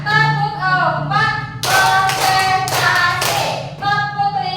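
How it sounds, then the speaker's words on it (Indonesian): A classroom group claps along to a spoken count, short bursts of hand clapping alternating with a voice calling out the numbers, the claps sharp and close. "sekarang kita tepuk 1, 2, 3 yuk"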